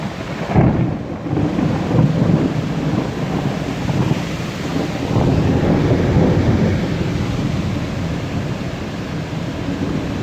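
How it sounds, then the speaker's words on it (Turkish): Loud, steady heavy rain pours down while deep thunder rumbles roll through, swelling near the start and again midway, during a July 2021 flood in Güneysu, Rize, Turkey, with lightning striking. "Gördüğünüz gibi çok ciddi şimşek çakıyor."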